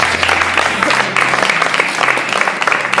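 A church congregation at a mourning-withdrawal service applauds throughout, loud, dense, continuous clapping from many hands close by.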